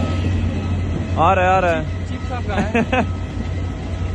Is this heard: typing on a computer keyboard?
no